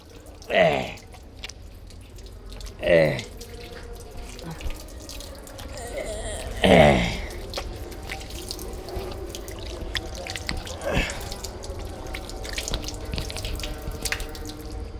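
Tap water runs and splashes as hands and forearms are washed up to the elbows during wudu, with a few louder bursts of splashing and dripping over a steady trickle, close by.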